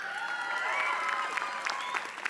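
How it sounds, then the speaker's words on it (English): Graduation audience at a business school ceremony in San Francisco applauding steadily, a continuous wash of clapping with a few cheers and whistles rising over it. "so I will convey your applause to him"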